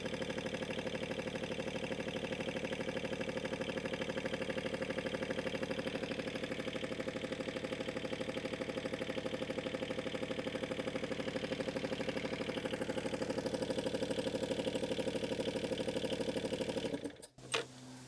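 A John Deere 2653a mower's engine idles steadily and close by, a continuous even running drone held for most of the clip before a brief clatter near the end.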